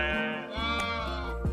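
A sheep gives a single close, sustained, wavering bleat that stands out clearly, with no other sounds around it.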